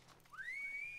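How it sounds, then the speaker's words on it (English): A video game character blows one sharp rising whistle to call for backup, a single clear tone that sweeps up and holds, fairly quiet. "Oh, he did a whistle. Did a big old whistle."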